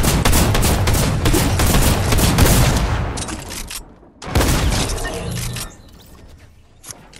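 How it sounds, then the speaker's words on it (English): Drum shotgun blasts in Fortnite, a rapid volley of loud, booming shots for several seconds, a brief pause, then another burst before fading out. "Wait a minute, what's this drum shotgun?"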